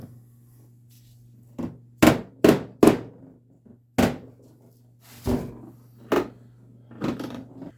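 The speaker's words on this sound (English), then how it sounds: "you might have to use your hammer a little bit to seat that in back in there" A series of sharp, hollow knocks as a hammer taps a vacuum cleaner motor part into place, irregularly spaced and close, with pauses between blows.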